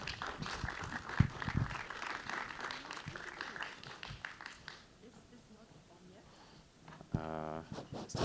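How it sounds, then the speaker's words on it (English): An audience applauds as panelists come on stage at a DeFi regulation panel event, a dense patter of clapping that fades out, with people talking over it. "a big round of applause for them"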